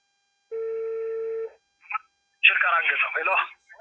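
An outgoing call on a phone: a single steady electronic ringback tone lasting about a second, followed by a short blip and then a burst of voice through the handset.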